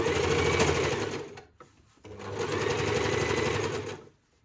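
A sewing machine runs steadily, stitching a shirring row across fabric for a self-drafted shirred bow top, pausing briefly partway through before starting up again for a second long run.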